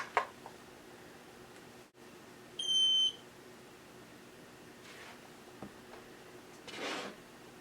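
A gel nail polish curing lamp gives a short electronic beep at the 30-second mark, a faint high tone lasting under half a second against quiet room noise, with a few soft rustles and a breathy hiss afterward.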